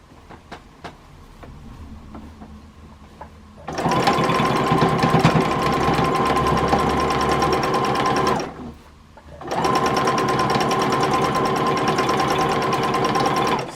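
Sewing machine stitching during free motion quilting on a Dresden block, running in two long steady bursts with a brief pause between, after a quieter start.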